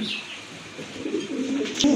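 Large pigeons in a seller's loft coo softly and repeatedly against a steady, busy background hum, with a slightly louder burst near the end.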